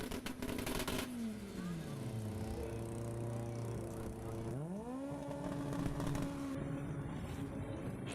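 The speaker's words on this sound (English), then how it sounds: "So as both cars edge up towards the start line." Engine noise from drag race cars at a 2014 Outlaw Shootout event, an 8-second FTO among them, staging at the start line. A steady drone gives way to a falling pitch sweep, then a sharp rising rev, loud and continuous, with faint crowd noise underneath.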